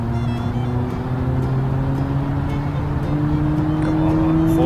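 Car engine in the Automation car company tycoon game winding up through the gears on a top-speed run, a steady loud drone with harmonic pitch climbing gradually, close and continuous.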